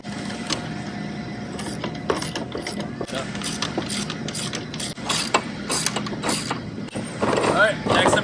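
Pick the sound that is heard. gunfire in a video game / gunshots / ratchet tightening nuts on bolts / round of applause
ratchet tightening nuts on bolts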